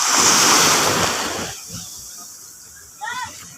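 Sea waves washing onto a beach near a seaside home, a steady loud surf roar blended with wind noise that fades after a second and a half, leaving a quieter hiss with a brief swell near the end.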